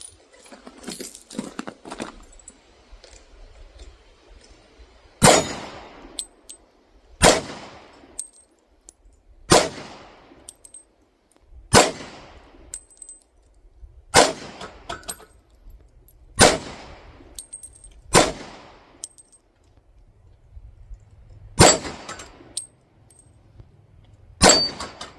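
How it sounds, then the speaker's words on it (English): A SIG P229 pistol firing .357 SIG through a brand new barrel, about ten sharp, loud single shots spaced a couple of seconds apart, each with a ringing tail. "These are first shots through a brand new barrel."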